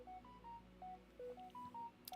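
A phone's message notification goes off as a quick run of clear electronic tones at several pitches, repeated in a short melodic pattern, fairly faint beside a quiet room hum.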